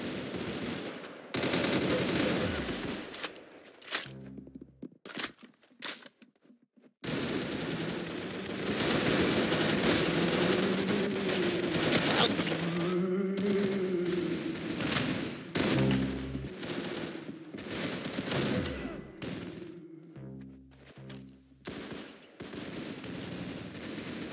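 Rapid bursts of gunfire crackle in stretches separated by short silences, loud and close, with wavering tonal sounds weaving through the middle section.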